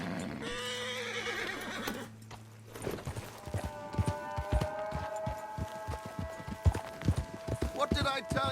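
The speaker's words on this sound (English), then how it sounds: "You need to get that horse under control." A horse neighs loudly in the video game Red Dead Redemption 2, then hooves clip-clop in a fast galloping rhythm with tack jingling, while a voice talks over the ride.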